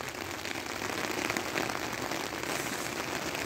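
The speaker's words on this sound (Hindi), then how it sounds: "बारिश तेज हो गई" Heavy rain falls steadily, a dense and even hiss that holds at the same level throughout with no voices.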